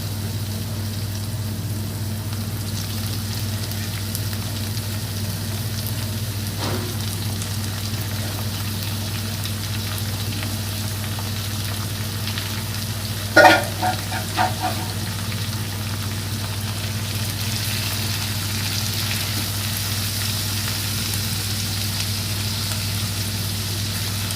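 Deboned fish frying in a pan for fish jhuri, a steady, faint sizzle over a constant low hum, broken once midway by a short clatter.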